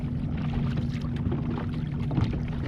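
A Crescent K-Craft boat runs on an 18 lb Watersnake electric kicker outboard, giving a steady, even hum mixed with continuous water rush and wind noise, with no speech.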